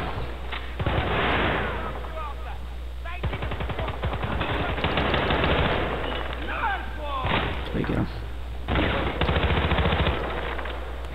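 Rapid automatic gunfire and repeated shots ring out in Battlefield Bad Company 2, loud bursts coming in clusters over a steady low rumble, with someone talking over parts of the action.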